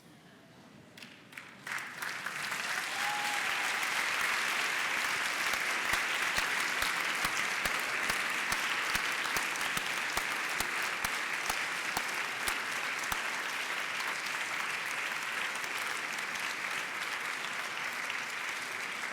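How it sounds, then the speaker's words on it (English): A large audience at a medical school white coat ceremony breaks into sustained applause, the dense clapping swelling within two seconds and holding steady and loud throughout. "give them a round of applause"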